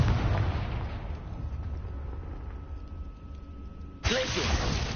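A Confringo explosive spell blasts in Hogwarts Legacy: a steady roar of rumbling noise, then a sharp, louder burst near the end, with a brief voice-like sound at the onset.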